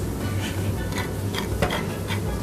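Cognac set alight in a pan for a flambé, with close, steady sizzling and a soft crackle and brief flare partway through, and no one talking.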